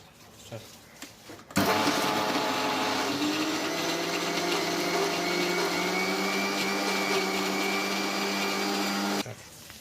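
A loud electric mixer grinder grinding pirandai chutney whirs steadily for several seconds, starting abruptly and cutting off sharply, with a high droning motor whine.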